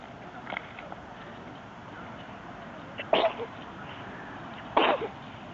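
A young child sneezes outdoors beside a bike-riding session, giving two short, moderately loud bursts about a second and a half apart over steady background noise, with a fainter catch earlier.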